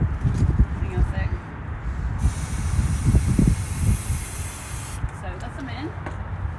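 Waterproofing aerosol spray hisses in two long bursts into an RV slide-out, with brief pauses and handling noises around them, close to the listener.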